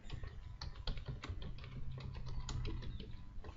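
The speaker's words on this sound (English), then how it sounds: "Press spacebar." Computer keyboard keys are pressed in a quick irregular run of close clicky taps, one sharper press standing out among them, with no talking.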